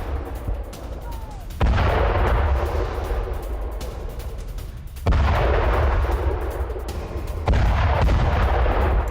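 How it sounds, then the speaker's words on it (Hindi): Heavy booming blasts from Israeli air strikes in southern Lebanon around Tyre and Khiam, three loud sustained explosive rumbles rolling in over a constant background roar, each following a few seconds after the last. "टायर हरफा और ख्याम में भी विस्फोटक धमाके हुए हैं"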